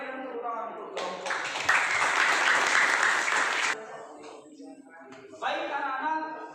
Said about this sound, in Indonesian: mari kita berikan tepuk tangan untuk kelompok